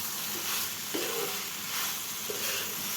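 Tomato, onion and paneer fry in a pan for paneer butter masala, giving a steady, moderately loud sizzling hiss with a couple of soft stirring scrapes and no talking.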